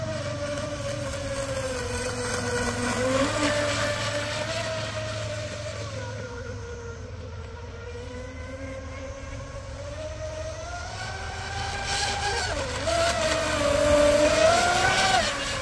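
A TFL Twin Cheetah RC boat runs across a lake, its high motor whine rising and falling steadily through the pass and swelling louder near the end; wind noise is present, with no talk.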